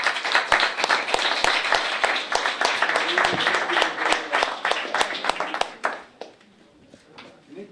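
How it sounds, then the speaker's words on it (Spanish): Audience applause at a book presentation for Joaquín Antuña's latest book at the Centro Riojano de Madrid: a modest crowd claps with distinct sharp individual hand claps, fairly close, sustained for about six seconds before quickly tapering to near silence. "Un aplauso para ellos."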